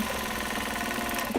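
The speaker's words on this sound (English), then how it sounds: "I do typically backstitch over seam lines." A domestic sewing machine runs steadily at close range, its motor humming with a rapid even stitching rattle while backstitching over seam lines on fabric for a crossbody bag strap; a short bump comes near the end.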